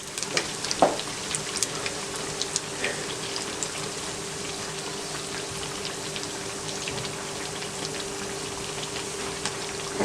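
Bread pakora fries in hot oil with a continuous soft sizzle and scattered crackling pops, steady and close, with no one speaking.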